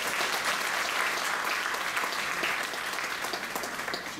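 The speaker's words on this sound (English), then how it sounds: "give a round of applause" A crowd at a Trinidad and Tobago Municipal Police Service evening event gives a round of applause. The clapping is steady and continuous for about four seconds and fades slightly at the end.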